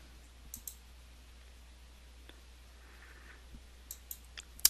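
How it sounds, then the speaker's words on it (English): A few sharp mouse clicks on a search button, sparse and faint against a quiet background, with a couple of clicks near the start and a cluster toward the end. "so I'll click on search."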